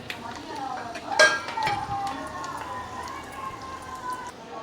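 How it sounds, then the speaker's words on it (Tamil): Raisins go into a pan of frying cashews and almonds for Onam ada pradhaman, giving a sharp clatter and metallic scrape at the start, then soft stirring and a light sizzle. A person speaks over it. "இப்போ திராட்சையை போட்டுடலாம்."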